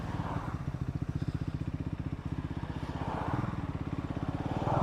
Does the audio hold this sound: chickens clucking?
no